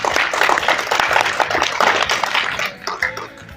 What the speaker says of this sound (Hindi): चलिए जोरदार तालियां हो जाए।